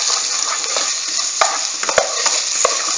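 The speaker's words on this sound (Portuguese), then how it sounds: "não para de mexer, senão ele gruda no fundo da panela" Sliced okra fries in a pan with a steady bright sizzle while a spoon stirs it, scraping the bottom with a few sharp clinks against the metal, close up and without talking.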